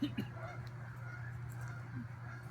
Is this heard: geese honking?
yes